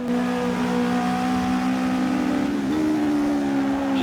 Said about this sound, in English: Just playing with the throttle.